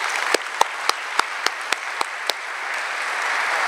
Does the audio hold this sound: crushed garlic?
no